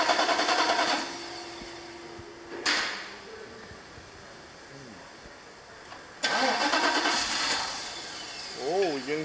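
A 1997 Mercedes-Benz SL500 engine cranks after a fuel pump replacement. There are two loud bursts of starter whirring separated by a pause, and a brief sputter near the end as it tries to catch.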